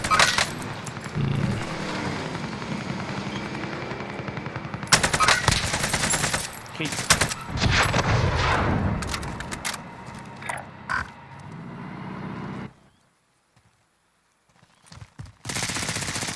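Sniper and automatic gunfire crackle through a Call of Duty Warzone match in sharp bursts, with loud clusters of shots and a brief silent gap near the end; a player talks over parts of it.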